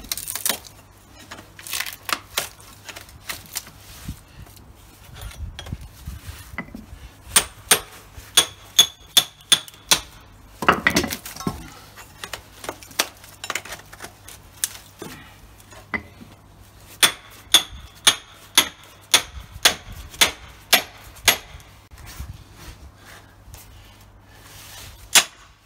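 Hammer and chisel strike copper windings inside a large transformer: sharp metallic blows come in irregular bursts and steady runs of quick, ringing hits, close by, over a faint low hum and some scraping between strikes.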